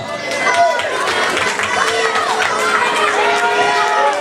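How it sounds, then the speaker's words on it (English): A large wrestling crowd jeers, roaring and shouting continuously, loud and close, with whistles and voices calling out over a dense wall of noise. "Crowd letting Brandon Thurston hear it."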